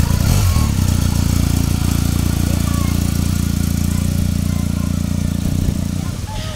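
Police motorcycle engine idling and running close by during a school road-safety visit, a steady loud low rumble throughout that eases slightly toward the end.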